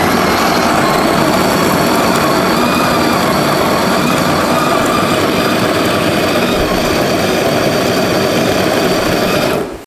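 Bork J701 electric coffee grinder running on its coarse setting, a loud, steady motor whir with a grinding rasp, close up and continuous for nearly ten seconds before cutting off.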